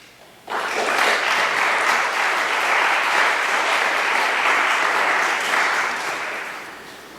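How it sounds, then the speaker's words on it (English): A church congregation breaks into a full round of applause that starts abruptly, holds steady and loud for several seconds, then gradually tapers off. "It's unusual to get a round of applause before I even do much"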